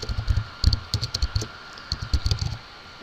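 Keys clatter on a computer keyboard as names are typed in, a close, steady stream of quick clicks in uneven bursts with brief pauses.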